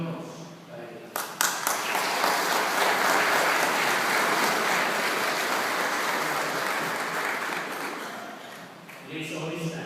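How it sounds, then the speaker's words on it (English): A crowd applauds at a 100th birthday celebration held within a church service, sustained clapping swelling after a brief pause and continuing steadily for several seconds before tapering off near the end. "A big round of applause."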